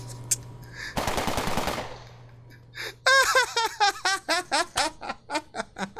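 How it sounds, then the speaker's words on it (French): A machine gun fires a short rapid burst in a horror video game, loud and close, then a voice breaks into a run of rhythmic laughter. "D'où ça sort cette mitraillette?"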